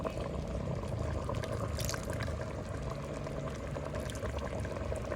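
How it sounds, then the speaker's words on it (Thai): Raw pla ra, a fermented fish sauce, poured into a pot of boiling khi lek curry with beef skin, giving a steady close hiss of liquid over rolling bubbling, with no talk. "อันนี้น้ำปลาแดกดิบนะครับผมสิใส่น้ำปลาแดก"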